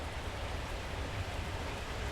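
Heavy rain falls outdoors during shrub trimming, a steady faint hiss of drops with no other sounds.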